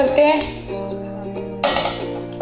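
A kadai pan set down on a gas stove in a home kitchen gives a couple of metallic clanks while someone talks over them.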